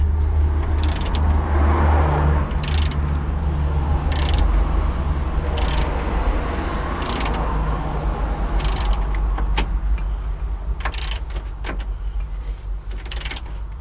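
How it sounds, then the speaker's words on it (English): Socket ratchet tightening a lower suspension arm bolt on a 2003 VW Golf MK4, a close, steady mechanical clicking over a loud low workshop hum, with sharp periodic bursts of metallic ratcheting. "Tighten up this side. The socket fits now, it's gone in a bit."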